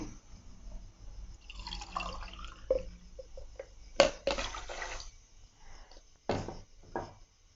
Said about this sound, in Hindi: बर्फ़ वाला ठंडा पानी मैंने इसमें डाला है।